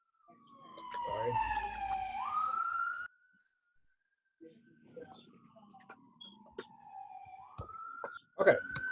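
A siren sweeps from high to low as an emergency vehicle passes outside, loud and close for a few seconds, fades to near silence, then a second wailing tone returns more faintly with scattered clicks.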